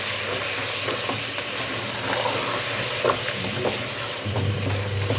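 Vegetables with potatoes and peas being stirred in a hot pan for paneer pulao, a steady close sizzle and frying hiss with scattered scraping clicks of the spoon, no talking.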